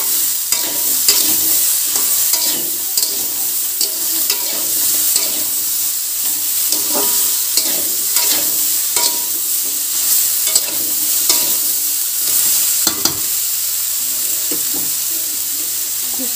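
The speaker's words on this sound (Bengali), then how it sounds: "এইগুলো একটু লাল লাল করে ভেজে নেব।" Potatoes and soya chunks fry in a pan with a steady, loud sizzle, and a utensil stirs and scrapes through them in repeated clattering strokes.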